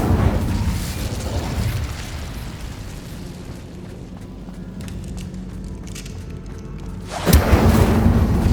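A fire spell bursts out in a magical game, a loud whooshing roar at the start that fades into a lower rumble, then flares up again sharply near the end.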